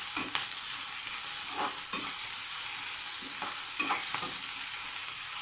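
Shredded cabbage and onion are stirred and fried in a pan for a veg roll filling, a continuous bright sizzle with regular spatula scrapes and knocks every second or so, close and fairly loud.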